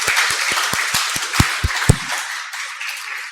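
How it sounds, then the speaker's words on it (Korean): A church congregation at a Sunday service claps in applause, a run of sharp, roughly even claps that swells briefly, then breaks off and fades into a quiet room. "하나님께 영광의 박수 올려드리겠습니다."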